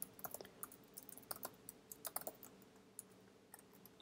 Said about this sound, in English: Oh boy, can't type today.